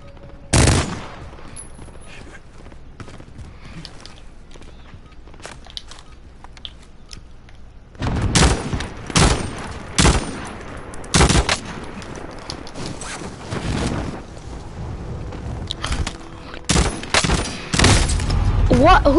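Shotgun blasts and other gunfire in the video game Warzone: a rapid scatter of loud, sharp reports, sparse at first and then thickening into a dense volley, with game noise running underneath throughout.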